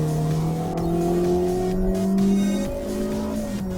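Hyundai Stargazer accelerating hard in sport mode, heard from inside the cabin as a loud, steady engine drone rising in pitch, then briefly dipping during a smooth gear change before climbing again.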